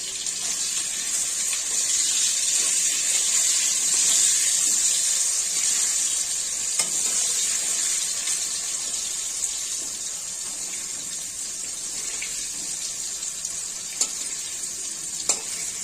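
Potatoes seasoned with salt and turmeric fry in hot oil for a potato-tomato fish curry, giving a steady, close hiss of sizzling with occasional light clicks of stirring, unbroken for about sixteen seconds.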